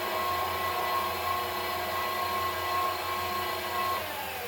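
A Fatosso A-300 paddle blender runs with a steady mechanical motor drone and a constant whine, holding an even level for several seconds with no talking before it eases slightly at the end.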